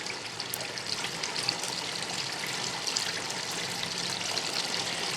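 Hot melted beeswax and honey poured into a strainer, a faint continuous liquid trickle and splatter running steadily throughout, alone with no talk.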